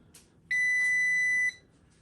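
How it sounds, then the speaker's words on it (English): A single clear electronic beep, about a second long, rings out from a ComfortBilt HP42 Alpine pellet stove powering on in a quiet room, preceded by a faint click. "we're just gonna hit it and then you're gonna hear a nice beep."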